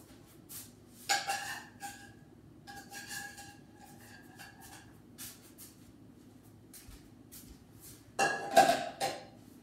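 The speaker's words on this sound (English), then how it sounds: "I take any of my kitchen plates, place it on top of the pan." Ceramic kitchen plate set onto a frying pan holding matzah brie: scattered clinks and scrapes of crockery on metal, a few soft at first, then a louder cluster of rattling contacts near the end, close by in a quiet room.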